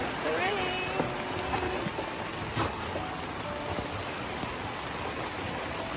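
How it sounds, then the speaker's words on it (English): Rain falling on a small boat at anchor out on the ocean, a steady close hiss of drops with scattered sharper pattering hits, and voices faintly audible underneath. "Here is the rain."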